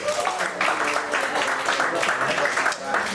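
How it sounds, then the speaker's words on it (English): Audience applause for the fathers at a Palm Springs stand-up comedy show on Father's Day weekend, a steady dense wash of clapping filling the room throughout. "Everybody clapped for the fathers."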